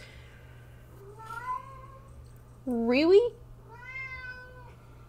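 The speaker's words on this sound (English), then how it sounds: "My cat says hi" A pet cat meows indoors: a short soft meow, then a louder, rising drawn-out one, then a third mid-length meow, with a faint steady hum beneath and a person briefly speaking.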